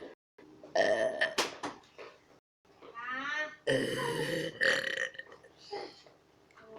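Several burps follow in quick succession, some long and croaky with a rippling gurgle, close up and moderately loud with no other sound around them.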